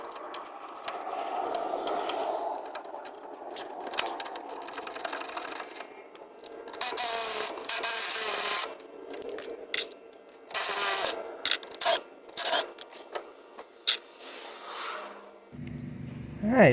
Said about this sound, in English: after just using a cheap wire brush around the periphery of the head here, got the worst of the rust off